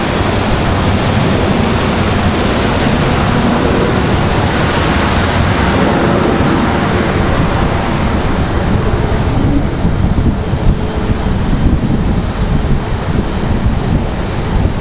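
An airliner landing at Raleigh-Durham airport makes a loud, steady broadband roar of engines and rushing air that holds throughout, with no voices.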